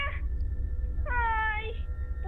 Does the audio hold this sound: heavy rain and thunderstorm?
no